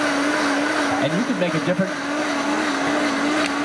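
A Vitamix blender runs steadily while making soup, a loud continuous whirring drone with a brief wobble in pitch, as someone speaks over it.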